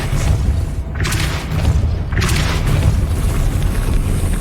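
A Depulso spell cast in Hogwarts Legacy, heard as two deep booming thumps about a second apart, each with a rushing whoosh of air, followed by a lingering low rumble.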